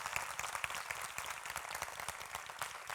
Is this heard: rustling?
no